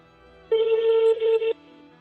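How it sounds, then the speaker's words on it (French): A single steady electronic tone sounds for about a second while a telephone number is being dialed, clear and close against a quiet background. "Je compose les numéros."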